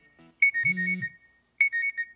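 Phone system alarm tone triggered from a Swift app built in Xcode: two loud electronic alarm bursts of steady beeping tones, the first joined by a brief low buzzing tone, separated by a short pause.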